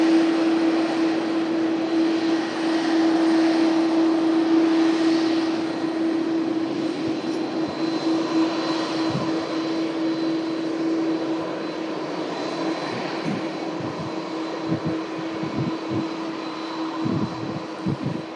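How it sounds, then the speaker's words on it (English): An Etihad Boeing 787 Dreamliner pushes back at the airport with a steady jet whine and a sustained tonal hum that fades after the midpoint, followed by several short, soft knocks near the end. "Etihad Dreamliner pushing back on Matt Camp."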